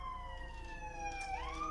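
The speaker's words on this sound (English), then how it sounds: "Excuse the sirens." Emergency sirens wail outdoors with a rising and falling tone, heard from a distance over a low steady rumble.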